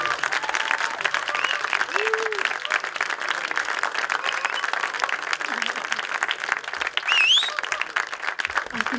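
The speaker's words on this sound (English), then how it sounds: "Tell from the claps that you all enjoyed it." Audience applause fills the room after a dhol drum film premiere in Leicester, steady dense clapping for the full stretch, with a few brief voices and whistles rising through it.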